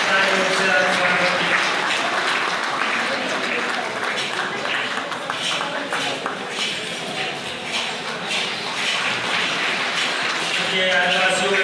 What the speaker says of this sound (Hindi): तालियों से स्वागत